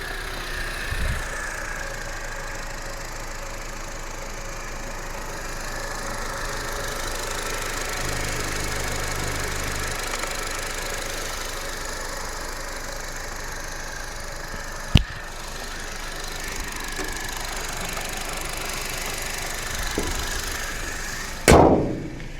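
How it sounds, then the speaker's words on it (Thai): A blue 2018 Honda Civic FC 1.8 EL sedan engine runs at a smooth, steady idle, a low even hum holding close by with a couple of brief clicks and a sharper knock near the end. "มาสตาร์ทฟังเสียงกันครับ เสียงนิ่มๆนะครับ"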